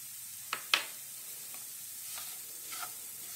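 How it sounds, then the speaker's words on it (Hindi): Someone stirs white eggplant curry in a pan. Two quick clicks of the spoon are followed by a faint, soft sizzle and a few light scrapes, all quiet and close. "मिक्स कर लेते हैं अच्छे से।"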